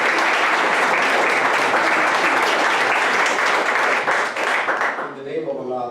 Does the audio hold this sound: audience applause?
yes